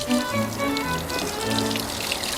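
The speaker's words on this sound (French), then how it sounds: "Il pleut." Steady rain patters and splashes on a surface, a continuous dense hiss of drops close by.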